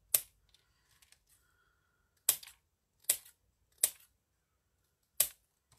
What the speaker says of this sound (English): just slicing into some thinner bits